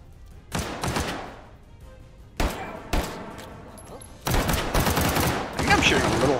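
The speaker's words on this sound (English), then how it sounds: "I think I'm shooting a little high because that first shot hit that guy in the helmet" WW2-era guns in the H3VR virtual reality game fire in loud, close bursts: quick volleys at the start and middle, then longer rattling strings of shots near the end.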